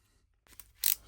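A ratchet screwdriver handle gives a few small clicks, faint at first and then one sharp, crisp, louder click close by, all within about a second.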